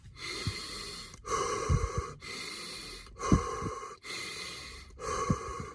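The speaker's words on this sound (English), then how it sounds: "My breathing exercises are basically a variation of Wim Hof, the Wim Hof method, which is 30 breath like this." Forceful breaths from a Wim Hof method breathing exercise, heard alone and close: about six strong rhythmic inhale-exhale cycles in steady succession, each a loud rushing whoosh of air.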